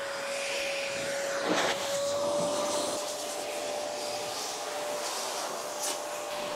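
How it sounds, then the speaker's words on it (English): Air blower drying the exterior of a car during a valet, a steady continuous rushing hiss held throughout at close range with brief surges, no talking. "the idea of the blower is to get all the effort around the edges"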